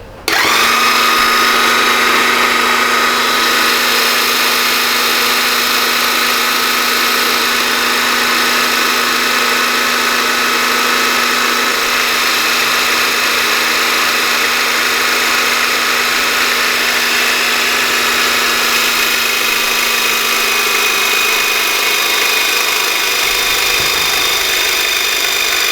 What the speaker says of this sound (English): going to hit the up.